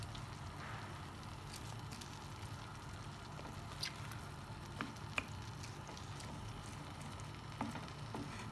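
Lamb browning in a pan with plenty of onion for a quince tagine gives a faint, steady sizzle with occasional small pops and crackles throughout.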